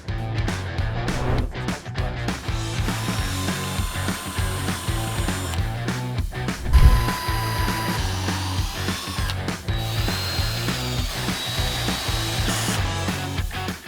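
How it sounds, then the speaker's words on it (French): A power drill with a 4 mm bit pre-drills a wooden frame crosspiece for a raised garden bed, angled slightly inward. The motor whirs and ratchets loudly and close, in repeated bursts with clunks between them and no talking. "nous allons pré-percer avec un foret de 4 parce que nous allons prendre une vis de 5 et nous perçons légèrement vers l'intérieur"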